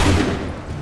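A musket volley in AC3 Remastered, a single dense, loud burst of many muzzles firing together that rolls briefly and stays heavy throughout the short moment.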